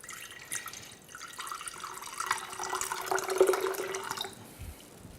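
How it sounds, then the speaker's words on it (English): Pomegranate juice pours steadily into a glass, a gentle gurgling stream that rises and then tapers off near the end. "first we need to pour in some of that pomegranate juice"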